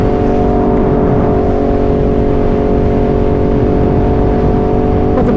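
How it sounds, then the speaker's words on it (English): A loud, continuous engine roar drones at a steady pitch from an Aprilia RSV4 motorcycle with an SC Project exhaust, close and unbroken for the whole stretch, with no voices. "I don't know if you can even hear me over the roar of the SC Project exhaust"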